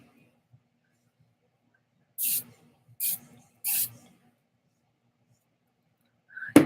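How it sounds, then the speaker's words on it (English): Three short hissing bursts of toning mist sprayed from a larger pump bottle onto the face, about a second apart, fairly close in a quiet room, then a brief faint bump at the end. "I'm gonna go ahead and prep myself with the toning mist."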